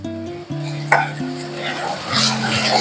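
Oil sizzling in a pan on the stove while okra masala curry cooks, a steady soft frying hiss with a spoon clink, under a background tone.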